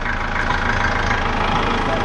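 A Chrysler PT Cruiser engine runs with its drive belt turning, giving a constant, close, dense mechanical idle drone that holds steady and even throughout, with no breaks.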